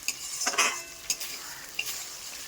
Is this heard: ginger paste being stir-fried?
yes